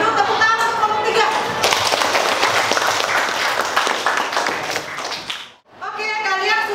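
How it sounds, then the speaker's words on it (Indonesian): Students in a classroom applaud a presenting group with a burst of dense, lively clapping for several seconds. Talk comes before the clapping, and a voice follows after a brief pause. "Kalau begitu tepuk tangan untuk kelompok 3."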